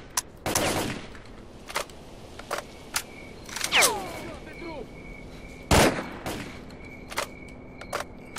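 Battle gunfire in S.T.A.L.K.E.R. Clear Sky, scattered sharp shots and short bursts at varying distances, with a few louder nearby cracks, spread across a game soundscape.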